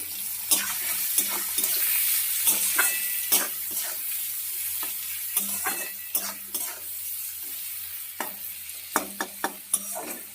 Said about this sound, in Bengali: ভালো করে পেঁয়াজটাকে নাড়িয়ে দিলাম লবণ হলুদ দিয়ে